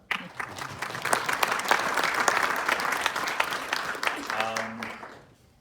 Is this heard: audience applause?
yes